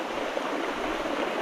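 Water rushes steadily through a stream channel, a close, continuous broadband wash with no pauses and no voices.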